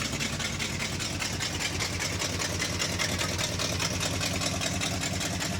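A 1971 Chevy K10 truck engine idling after a cold start, a steady low rumbling chug held close and even throughout, with no voices over it.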